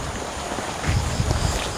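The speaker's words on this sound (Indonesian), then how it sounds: "Angin. Kenceng banget, dingin banget di sini." Strong, cold wind gusting outdoors at night, a broad rushing roar with low buffeting thumps on the microphone that swell in the second half, close and steady with no voices.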